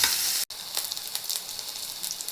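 Onions frying in hot oil in a wok, giving a steady, close, bright sizzle that cuts out for a moment partway through and then carries on evenly with small crackling bursts.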